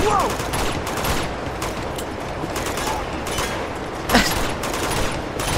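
Rapid gunfire from a normal gun in Uncharted 2, with dense repeated shots rattling steadily throughout and a few louder cracks and ricochet-like whines standing out.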